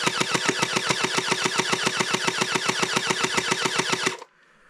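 A SplatRBall SRB375 gel blaster fires a rapid, steady burst of about two dozen evenly spaced shots over four seconds, loud and close, then stops abruptly.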